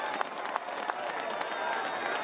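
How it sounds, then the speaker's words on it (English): A stadium crowd at a football game applauds an injured player as he is carried off on a backboard, a steady wash of clapping with scattered louder claps, moderately distant and continuous throughout. "crowd gives him a hand"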